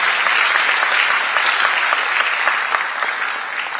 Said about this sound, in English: So a big round of applause for Dr.